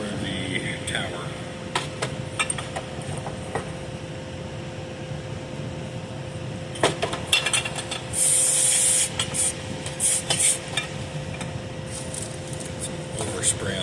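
Aerosol can of carburetor cleaner sprayed onto Holley spread-bore throttle bodies during a rebuild, a short loud hissing burst rising over steady room noise and a background hum, with a few shorter spurts after it.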